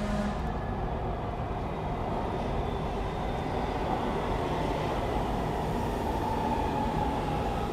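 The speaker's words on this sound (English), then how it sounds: "Here comes the train." A ghost train rumbles past in a Roblox horror game, a loud continuous rolling roar of rail noise sustained throughout, with no talk.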